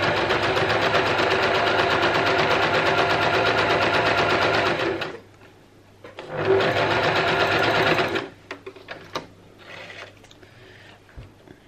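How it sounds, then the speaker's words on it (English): Sewing machine running a straight stitch along a curved fabric face mask edge, a loud close rapid whir in two bursts separated by a short pause, followed by quieter handling clicks. "we're going to run just a straight running stitch all the way down the side of the curve and right off the end"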